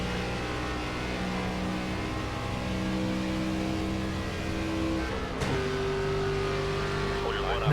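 Stock car engines race at Talladega in the NASCAR 25 video game, a loud, sustained droning pack of motors whose pitch jumps partway through as a gear shift comes in.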